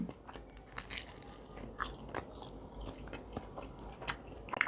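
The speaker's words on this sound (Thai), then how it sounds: "กรอบนอก นุ่มใน เขาจะเป็นแบบนุ่มในในข้างนอกเป็นแบบหนังกรอบๆ" Crispy salt bread, with a crunchy crust and a soft inside, is bitten and chewed up close, giving repeated small crackling crunches over a few seconds, with no speech.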